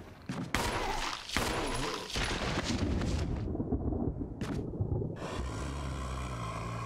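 Gunfire in the survival horror game Resident Evil HD Remaster, loud and dense shots and blasts filling most of the stretch, with brief gaps before the barrage resumes.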